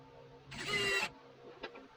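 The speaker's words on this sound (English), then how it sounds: "Now I'm gonna put a screw on both sides." A power driver briefly whirs as a screw is driven into a kitchen cabinet in an off-grid tiny home, one short burst up close followed by a faint click.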